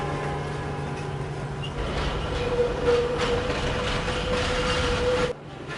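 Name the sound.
train passing near Luz Station, São Paulo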